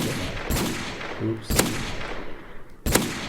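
Guns firing in vanilla Minecraft 1.14.4, three sharp, loud shots spaced about a second apart over a steady background rumble, with a brief voice in between.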